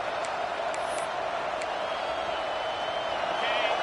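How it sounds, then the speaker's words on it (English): A college football stadium crowd at Penn State at Texas A&M roars near the goal line, producing a steady, loud, unbroken wash of noise with a few higher whoops over it. "And the crowd really making some noise now, trying to help out this defense to get this stop near the goal line."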